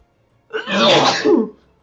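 A single loud sneeze close by during a tabletop Dungeons & Dragons session, a sharp intake followed by a broad burst lasting about a second, with no talk over it.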